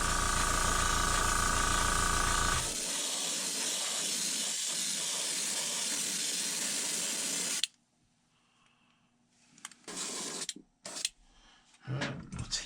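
A heat gun roars as it sets paint on a white glide fishing lure, a loud steady blowing hiss that drops in pitch partway and then cuts off abruptly, followed by quiet handling clicks and bumps.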